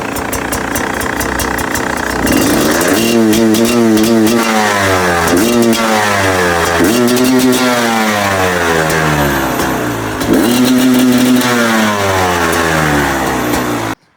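A 2025 Beta 250 RE two-stroke dirt bike running badly, its loud, close engine rising and falling in uneven revs that repeatedly stumble and fall flat at partial throttle, with no voices.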